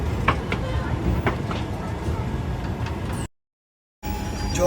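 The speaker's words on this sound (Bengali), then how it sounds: "তো পুরীর জন্য কিন্তু ট্রেন ছেড়ে দিয়েছে।" Santragachi-Puri Superfast passenger train rolling along, heard from inside a carriage as a steady loud rumble with rhythmic wheel clicks, briefly cutting to silence before resuming.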